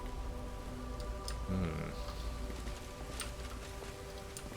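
Steady rain patters and hisses in the video game Pathfinder: Wrath of the Righteous, where it rains blood, with a brief voice and faint low tones over the constant downpour.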